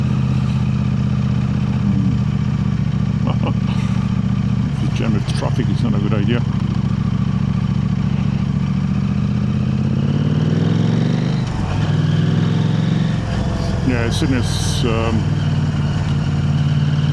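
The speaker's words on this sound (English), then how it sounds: "so we can actually hear the sound of the exhaust." A KTM 890 Adventure R motorcycle fitted with an Arrow exhaust rides through busy city traffic, its engine droning steadily up close with a few throttle blips and a brief dip, while the rider talks throughout over wind noise.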